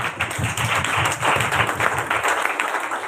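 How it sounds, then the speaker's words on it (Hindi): A church congregation at a Sunday worship service claps for a sister, a brisk, rhythmic run of hand claps from many people, moderately loud and continuous over a few seconds. "जोरदार ताली बजाएं बहन के लिए।"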